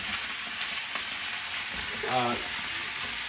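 Potatoes, onions and garlic frying in oil in a very full pan give a steady, close sizzle with brief stirring scrapes partway through, and no voices.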